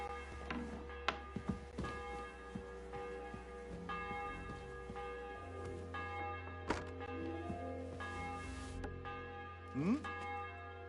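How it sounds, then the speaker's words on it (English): Deep, resonant church-style bell ringing in a video game, several sustained tolls with lingering overtones, mixed with occasional thuds and soft game sounds. "The bell's ringing for Hans the 5th time."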